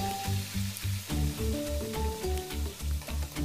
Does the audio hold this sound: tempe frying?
yes